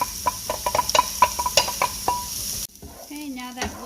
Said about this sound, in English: I'm going to add our cauliflower rice to the pan, and we're just going to pre-cook it in the oil.